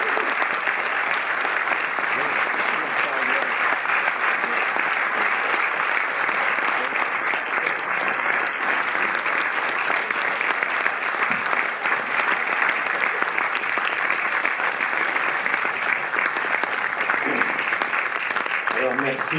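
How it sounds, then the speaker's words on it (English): Audience at a Cinémathèque film talk in Paris applauding, steady dense clapping from a sizable crowd sustained for nearly twenty seconds, close and loud. "Et on peut applaudir Kimini aussi."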